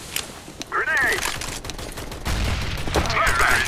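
Gunfire in CS:GO sounds as sharp, close shots and bursts over game effects, with players talking over the action.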